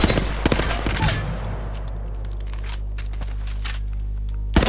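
Hemlock burst-fire rifle shots in the Apex Legends video game, a quick flurry of loud, close gunfire cracks at the start, then a ringing decay with a few scattered pops and a final burst.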